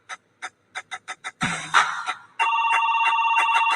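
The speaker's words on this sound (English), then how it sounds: "The phone is ringing." Telephone rings loudly in short repeated electronic bursts, first a series of separate chirps, then a clatter and a sustained steady ringing tone, heard alone in a radio drama.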